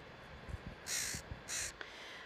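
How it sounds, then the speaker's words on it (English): Crows cawing at a sunset roost on the flats near Skagway, Alaska, several harsh caws in two longer bursts with shorter calls between, moderately distant and alone. "you can see the crows had come home to roost for the night"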